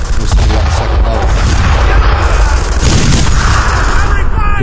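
Gunfire and booming explosions in the World War II shooter Brothers in Arms: Earned in Blood, dense and loud throughout, with a voice talking over the battle noise.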